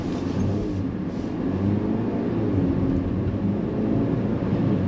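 A BMW X1's turbocharged four-cylinder engine drones and pulls steadily as the car accelerates, a continuous mid-pitched hum close by.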